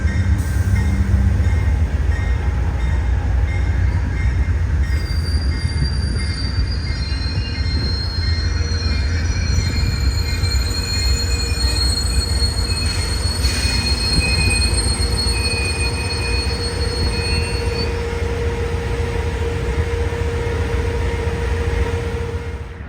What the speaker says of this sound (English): the westbound Texas Eagle arrives on Track 3 to make their regular station stop